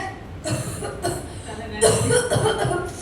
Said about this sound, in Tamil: ஏம்மா நல்லாதான் இருமுற. கொஞ்சம் பொறுமையா இருமா.